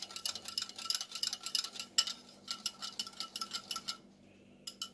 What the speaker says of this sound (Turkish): Şimdi bunu güzelce çırpıyorum.